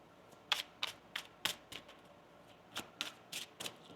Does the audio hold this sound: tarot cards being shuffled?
yes